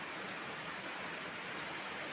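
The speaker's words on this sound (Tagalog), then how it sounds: "Super lakas ng ulan natin ng dahil sa bagyo." Heavy typhoon rain pours down in a steady, dense hiss of drops drumming on surfaces, close and continuous, with no voices.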